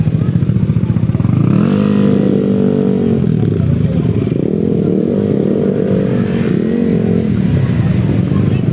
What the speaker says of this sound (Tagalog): Ayun yung motor guys, oh.